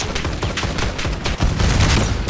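Dense gunfire from the Call of Duty video game, rapid overlapping shots and bursts with a grenade-like thump, loud and continuous with no talk.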